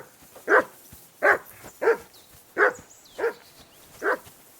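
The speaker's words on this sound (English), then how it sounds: "I assume you can hear that damn dog of yours barking." A dog barks six times at a steady pace in the medieval video game Kingdom Come: Deliverance 2, each bark a clear mid-distance yelp standing alone over faint ambience.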